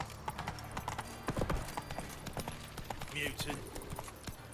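Hooves of the horse Roach clip-clopping in a Witcher video game, a quick steady rhythm of soft strikes heard under scattered game voices and faint background sounds.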